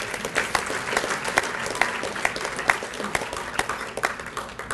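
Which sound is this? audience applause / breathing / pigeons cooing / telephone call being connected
audience applause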